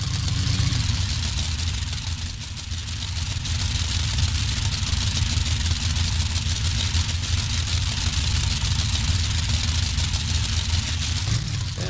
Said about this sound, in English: a V12 Allison Aircraft engine in the bed of the Awesome Kong